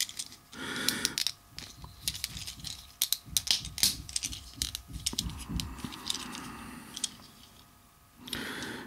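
A plastic Transformers Trailcutter figure has its parts pressed and clicked into place, giving a run of sharp, close taps and snaps in uneven clusters, with softer handling rustle between them.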